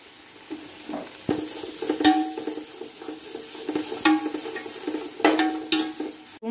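Vegetable fried rice stir-fried over high flame, a steady sizzle broken by repeated scraping strokes and clinks of a spatula against the pan, close and fairly loud with no talking.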